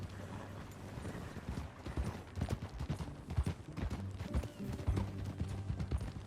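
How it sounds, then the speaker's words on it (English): Horse hooves clip-clop steadily in the Red Dead Redemption 2 video game, a brisk continuous rhythm of fairly faint hoofbeats with soft tack and mechanical rattles alongside. "That new horse?"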